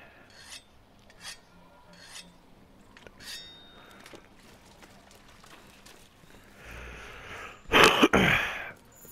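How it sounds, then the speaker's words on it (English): Rasping strokes of a whetstone on a weapon in the Monster Hunter video game, a few faint scrapes at first, then a loud, dense burst of sharpening near the end over a quiet game background. "Sharpening my shit."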